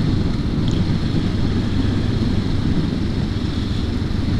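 Honda CL500 twin-cylinder 500cc motorcycle engine while riding on an open road, a loud steady low drone mixed with wind rush, close and continuous with no talk.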